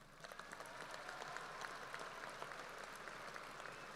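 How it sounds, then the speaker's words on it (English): Steady applause from the audience at a Western Dakota Technical College commencement ceremony, a dense, even patter of many hands heard from a distance and fairly quiet throughout, with no talking over it. "Let's give them a round of applause."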